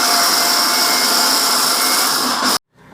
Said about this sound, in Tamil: இதெல்லாம் இப்போ மிக்சியில் போட்டு அடிக்க போகிறோம்.